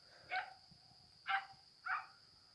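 Dogs bark three times in separate short, sharp yelps, fairly distant and faint, with long quiet gaps between them over a low background hum.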